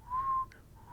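A voice mimics hecklers whistling at a comedian on stage: a sustained high steady whistle, a short break, then another whistle starting, close and clear with no talk.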